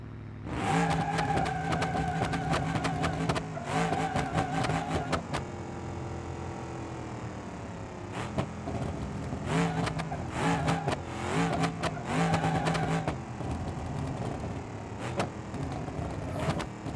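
A car engine in the BeamNG.drive driving simulator revs hard in repeated bursts, then its pitch slowly falls as it winds down between throttle blips, loud and close with no talking.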